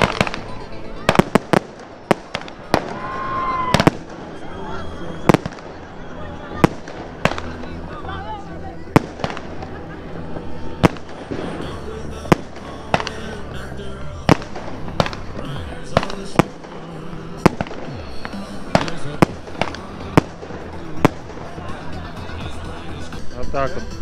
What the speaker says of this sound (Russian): Слышите петарды, да?